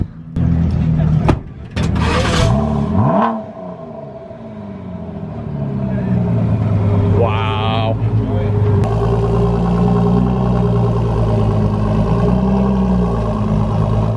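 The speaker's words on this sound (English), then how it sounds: "Ford GT startup" A Ford GT supercar fires up after a few sharp clicks, its engine settling into a loud, steady rumbling idle that runs on to the end; a voice exclaims briefly near the start.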